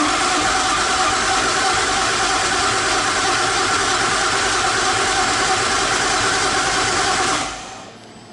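A car engine runs steadily at idle just after start-up during off-season preparation of a race car, a loud close drone for several seconds before it drops away near the end, with no speech.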